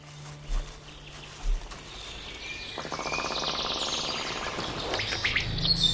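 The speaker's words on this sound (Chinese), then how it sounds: "这只求偶的鹌鹑在不停地鸣叫" Courting quail calling over and over in a dense forest, high chirping notes repeating alongside other birdsong, with a faint trickle of water in the background.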